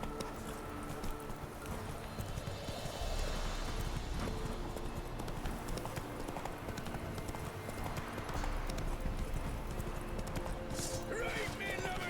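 Horse hooves clip-clop at a steady running rhythm in The Witcher 3, fairly close and continuous across the whole stretch, with someone talking over them at times.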